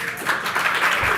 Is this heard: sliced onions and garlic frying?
no